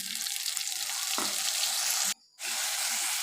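Spices go into a hot pan for mutton curry and set off a loud, close, continuous sizzle and hiss, broken by a brief stir and a momentary cutout before the frying resumes.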